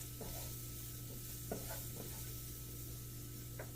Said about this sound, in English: Let the pepperoni cook with it, because it'll start breaking down some of the oil and stuff in the pepperoni.